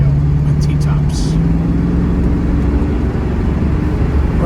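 A 1979 Pontiac Trans Am with automatic transmission and T-tops cruising on an expressway, a steady low engine and road drone heard from inside the cabin, with someone talking over it.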